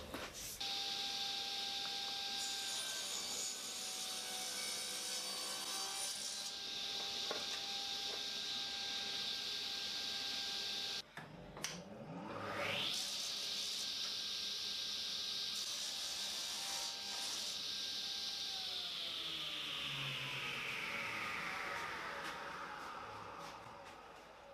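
A wooden ring box top being cut to size with a power saw, a high whine that runs steadily, drops out briefly, then spins back up and slowly winds down, close and continuous with no talk.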